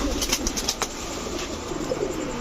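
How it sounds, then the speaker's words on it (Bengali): A green-necked female pigeon gives low, soft coos close by over a steady background hiss, with a few faint wing or scuffing sounds. "এরপর হচ্ছে মাখরা সবুজ গলা, এটাও একটা মাদি কবুতর"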